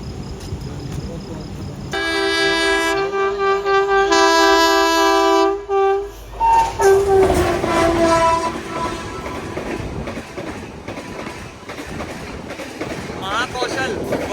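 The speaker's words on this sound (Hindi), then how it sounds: "हरपालपुर से मऊरानीपुर की साइड में आ रही है महाकौशल एक्सप्रेस, तो उसके साथ में भी अपनी क्रॉसिंग होगी थोड़ी देर में।" Mahakaushal Express 12189, Jabalpur to Nizamuddin, passing a crossing in Uttar Pradesh: a loud, sustained two-tone horn blast, then wheels clattering on the rails as the coaches rush by close.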